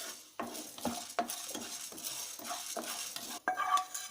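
Lentils dry roasting in a pan while being making sambar powder, heard as repeated scraping stirs and rattling grains at a steady rhythm, fairly close and moderately loud, with no talking.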